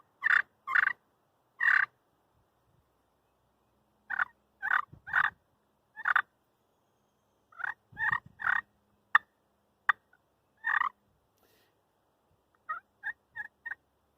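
Soft turkey yelps played on a wooden pot call, short clucking notes in small clusters separated by pauses, close and fairly quiet with nothing else heard.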